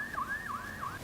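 An ambulance siren wails through the streets near a plastic factory fire in Narela's industrial area, Delhi, sweeping up and down in quick repeating cycles, steady and fairly close, with no talking.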